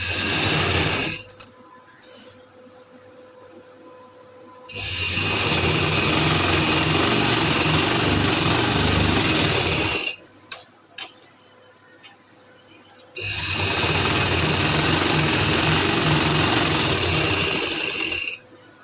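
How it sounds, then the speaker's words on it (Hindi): A sewing machine runs in two long, loud bursts of steady stitching on fabric while a trouser or kameez hem is sewn, with a short pause and a few quick stops between the runs. "इधर हम सिलाई लगाकर इसे इस तरह से सीधा कर लेंगे।"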